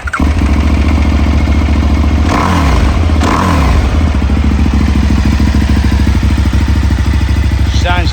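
A KTM SM 990T motorcycle engine cranks and catches, then settles into a loud, steady, close idle with a throbbing pulse and a couple of brief blips partway through.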